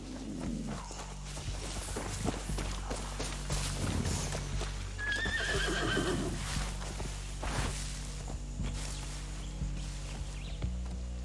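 Horses neighing and clopping along amid a dense, steady Far Cry 6 game soundscape, a whinny rising midway over continuous rumbling background.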